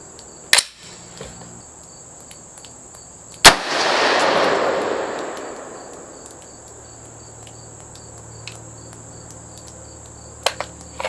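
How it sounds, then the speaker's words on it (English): A Palmetto State Armory AR10 .308 rifle fires outdoors at a range. One loud, sharp shot booms and rolls off over a few seconds, with fainter sharp cracks before and after against a quiet background hum. "I'm going to shoot another one."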